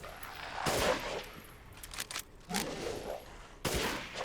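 Gunfire from a sniper rifle in Resident Evil Village played in VR on PSVR 2, heard as a few heavy, loud bursts spread across a few seconds, each trailing off into rumbling game ambience.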